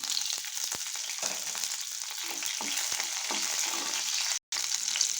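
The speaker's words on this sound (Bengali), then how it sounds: "এবার এর মধ্যে দিয়ে দিচ্ছি আমি কাঁচা লঙ্কাগুলো" Garlic and green chilies fry in oil in a wok, a steady close sizzle with scattered crackles and pops, continuous apart from a brief cut near the end, with no talking.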